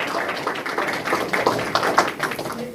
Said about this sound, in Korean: 예, 박수로 환영해 주시죠.